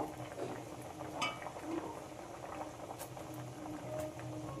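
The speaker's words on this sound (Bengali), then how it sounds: "ঝোলটা খুব ভালো রকমই ফুটে গেছে" Snakehead fish curry broth boils in a pan with a faint, steady bubbling and gurgling under a low background hiss.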